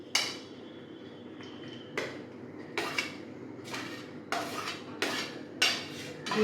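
Vegetables for a veg butter cheese sandwich being mixed in a bowl, a run of sharp utensil clinks and scrapes against the bowl, close and irregular, about eight distinct knocks with no talking.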